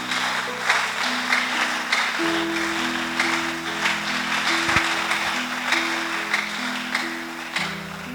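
Seated church congregation clapping for the word of the Lord, steady applause running under sustained organ or keyboard chords, with the music dominating and the clapping blended beneath it.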